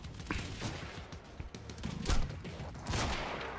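Bursts of video game gunfire in Quantum Break, a rapid string of muffled shots and impacts layered over game sound, fairly quiet throughout.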